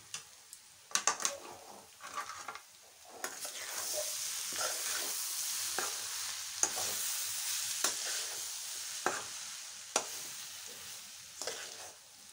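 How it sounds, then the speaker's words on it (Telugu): Poha upma gets stirred in a hot pan, with a soft sizzle underneath and a run of clicking spoon scrapes, quick taps at the start and scattered knocks later. "ఇలా వేసిన తర్వాత దీన్ని మొత్తం కలపాలి."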